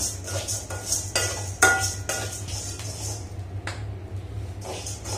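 Rice dry-roasting in a pan over a medium flame, with a steady low hum and repeated scraping, clinking stirs against the metal pan, close and fairly loud, no talking.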